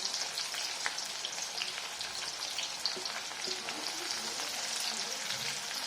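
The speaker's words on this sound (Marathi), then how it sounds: "आता याच तेलामध्ये आपण पुलावची फोडणी घालूया कट करून घेतलेला कांदा" Chopped onion fries in oil as the tempering for a soya paneer pulao, producing a soft, even crackle dotted with small pops like light rain, steady throughout and fairly quiet.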